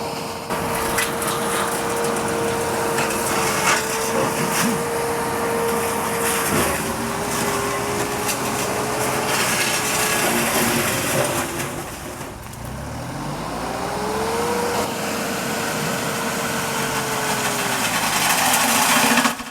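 A Boomer 54D compact tractor powering a brush mulcher, its engine droning loud and steady throughout, with pitch dipping and recovering as the mulcher bites into brush and a brief load change midway.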